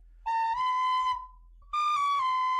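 Flute-like whistling: two sustained, clear tones, the first holding then sliding slightly down, a short gap, then a second slightly higher phrase with faint wavering, close and alone.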